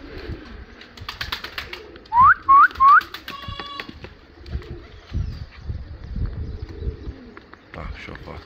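Turkish pigeons in flight give three loud, rising whistle-like sweeps in quick succession, with softer cooing and chirps around them against a busy outdoor background.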